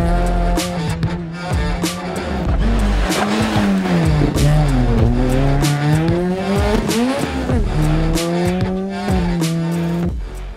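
A rally car on a forest test stage being driven for suspension setup work, its engine revving up and down hard through gear changes, with tire noise and gravel spray, loud and close throughout.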